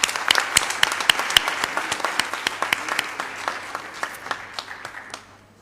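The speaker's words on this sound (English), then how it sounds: "Let's give her one hand of applause there." Audience clapping at a session on population and resources in Pakistan, loud and crisp at first, then thinning to scattered claps and fading out near the end.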